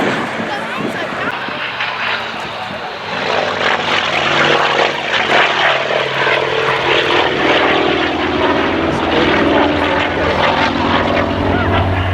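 Old propeller-driven warbirds perform crazy flying at the RNAS Culdrose Air Day, their engines droning loudly and steadily overhead, swelling to a sustained roar as they pass.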